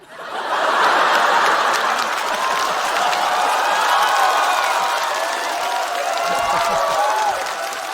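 A stand-up comedy audience breaks into sustained applause mixed with chuckles and laughter, a dense, loud wash of clapping that holds steady for several seconds before easing off.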